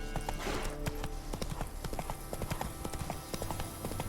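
Horse hooves in a video game clip-clopping in a steady, quick trotting rhythm, fairly close and continuous under faint ambient background.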